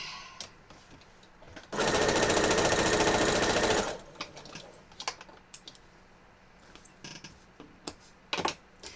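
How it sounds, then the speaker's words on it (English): Sewing machine stitching quilt pieces together for a horror-themed quilt: a steady, rapid two-second run of stitching, close and loud, framed by quieter handling clicks and rustles before and after. "And I'm going to sew this one."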